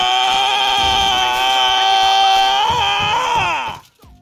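A charging battle scream in Chivalry 2, altered by carrying a chicken, comes out as one long, loud, strained squawking cry that wavers near the end and cuts off abruptly after about four seconds.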